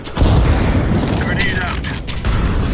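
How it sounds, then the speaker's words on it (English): In Counter-Strike 2, a thrown grenade goes off as a loud, booming blast, with a rumbling tail and scattered gunfire and mechanical game noise around it, while a voice talks over the action. "Throwing a grenade."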